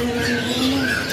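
Continuous bright chirping and warbling from a white canary at a bird shop in Bandung, close and fairly loud, with steady twittering over a busy background.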